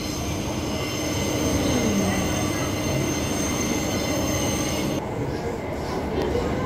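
Perth suburban electric train on the Armadale line running at speed, a steady loud rumble of the carriage filling the clip with thin wheel squeals sliding over it, heard from inside while racing another train.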